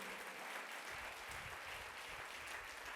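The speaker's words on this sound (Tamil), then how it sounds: "நல்ல கைத்தட்டு." A church congregation applauds during a Sunday service, a dense, steady patter of many hands clapping at moderate distance that holds evenly and fairly faint throughout.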